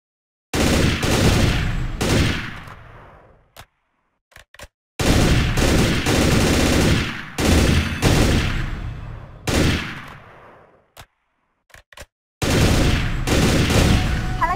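Sustained automatic gunfire from the Garena Breakout mobile shooter, loud bursts of rapid shots lasting a few seconds each, separated by short gaps with a few single shots.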